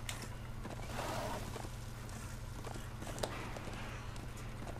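Hooves of a galloping horse ridden in the action game Darksiders 2, a steady rhythmic clip-clop over a constant game music and ambience bed, moderately close.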